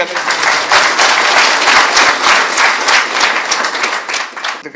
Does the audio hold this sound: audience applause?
yes